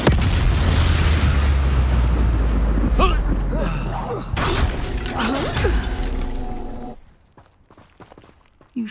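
Bombarda spell explosions in Hogwarts Legacy, heavy booming blasts and rumbling debris in a loud, busy fight that fades away toward the end, with a short thump at the very close.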